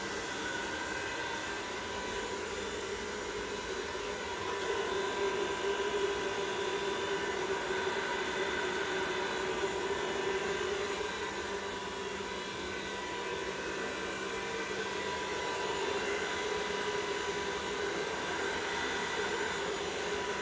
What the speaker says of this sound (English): So the hairdryer is being used in this instance to obviously blow and divide the cell structure